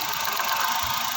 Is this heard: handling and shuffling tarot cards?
no